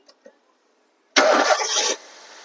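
Hyundai i20 petrol car starting: after two faint clicks and a pause, the engine cranks and catches with a sudden loud burst, then settles to a quieter idle.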